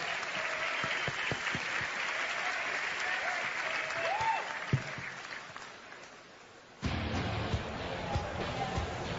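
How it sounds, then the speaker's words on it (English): Audience applause fills a convention hall after a BlizzCon 2011 Diablo 3 Q&A panel, steady dense clapping from a large crowd with a brief cheer, then a louder crowd roar swells near the end. "Everybody give them a round of applause."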